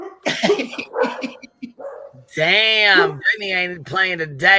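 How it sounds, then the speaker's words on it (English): Dogs bark and yip in a room, bursts of close barking and a drawn-out whining cry mixed with a person talking over them. "I'm sorry that my dogs are barking."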